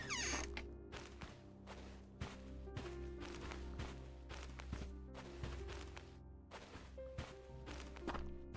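A character walks in the PC video game Eydigard, with a steady run of distinct footstep thuds at an even pace over sustained ambient game tones.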